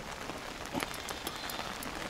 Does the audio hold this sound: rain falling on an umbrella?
yes